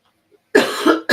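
A single person coughs close to the mic, two quick harsh bursts after a brief quiet moment, with another cough starting at the end.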